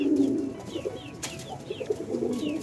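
Pigeons coo softly in a loft, a few low throaty calls repeating close by over faint background noise.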